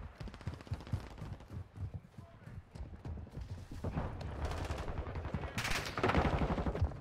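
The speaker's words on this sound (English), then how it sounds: "I'm taking effective fire!" Rapid bursts of M13 rifle fire in a Call of Duty match, close and loud, with quick repeated shots that build into heavier sustained firing toward the end.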